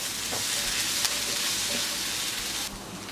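Ginger garlic paste sizzles in hot oil with salt and turmeric for an Andhra-style chicken fry, a steady close crackling hiss with brief stirring clicks that drops slightly near the end.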